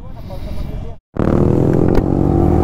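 A Yamaha R15 sport motorcycle on a street ride, its engine droning loud and close with a short gap of silence, then a steady, stronger roar as it pulls away under wind buffeting.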